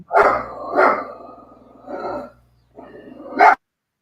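A dog indoors barks four times at close range, each bark loud and full with short pauses between them, with a low steady hum underneath.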